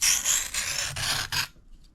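A knife blade scrapes across a Kitanis diamond sharpening plate in several quick rasping strokes, close and crisp, ending abruptly in quiet.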